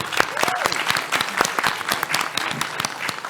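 An audience at a live PAX West 2023 panel claps steadily for a few seconds, a dense burst of applause without a break.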